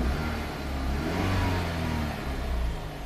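A Chrysler PT Cruiser engine runs steadily up close, a loud continuous mid-pitched hum with a slight swell in revs partway through, no voices.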